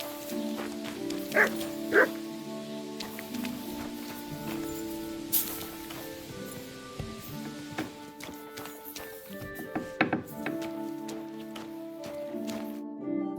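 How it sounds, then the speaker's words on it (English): A dog barks and yips in the video game Kingdom Come: Deliverance 2, several short barks over steady in-game ambience and music, with occasional hoof clops in the background. "You silly doggy."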